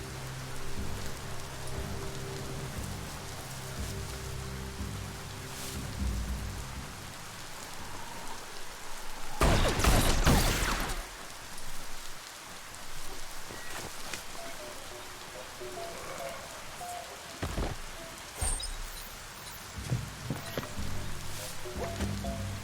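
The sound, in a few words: rain falling, from the video game Biomutant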